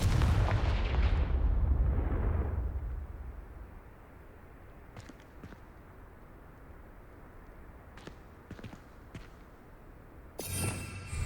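A Confringo explosive spell blasts in the Hogwarts Legacy video game, opening with a loud booming burst that rumbles and fades over a few seconds, followed by a few faint sharp ticks and a brief noisy flare at the end.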